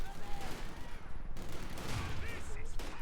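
Suppressing fire from an M16 halftrack's machine guns in Company of Heroes, a dense, sustained rattle of automatic fire with battle noise, running steadily at moderate distance throughout.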